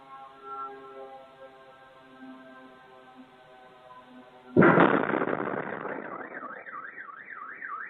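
Drone explosion caught by a doorstep security camera, a sudden loud blast cutting across a steady droning tone, followed by a wailing car alarm that continues after the bang.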